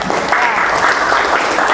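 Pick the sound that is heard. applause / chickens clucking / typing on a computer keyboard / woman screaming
applause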